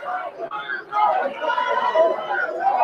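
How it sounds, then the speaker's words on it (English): A crowd cheers outdoors after a court verdict, a sustained mass of voices and whoops heard from nearby, with a reporter talking over the noise. "Of course, people are cheering right now."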